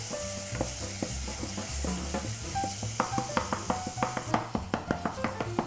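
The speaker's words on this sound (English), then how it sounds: "So little olive oil in here, and the curry paste. We just start frying this down." Curry paste fries in a little olive oil in a pan, a close sizzle broken by a series of sharp scraping stirs that quicken toward the end.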